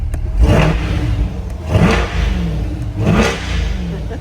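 A 2020 Corvette C8 fitted with an MPP exhaust, parked with the door open, revs hard three times, each rise to a loud roar then dropping back to idle, close and loud.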